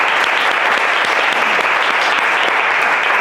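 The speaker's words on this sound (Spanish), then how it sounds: "Así es que este aplauso para todos y todas vosotras." Sustained applause from an audience at a political forum in Spain, dense steady clapping that fills the space without pause, close and loud, no voices standing out.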